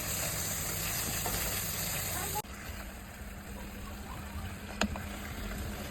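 Chicken and spice masala frying in a pan, a steady hiss of sizzling throughout with a sudden drop partway through and one sharp knock of a utensil near the end.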